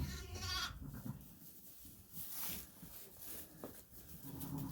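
Sheep and lambs on a farm, including a ewe with triplets, bleat faintly and intermittently against a noisy outdoor background, with a louder bleat near the start.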